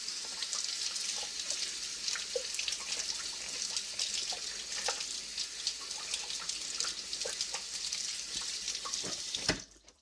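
Kitchen tap water runs steadily into a sink while a utensil is rinsed during spicy cinnamon hard candy making, a constant close splashing stream with small clinks, cut off just before the end.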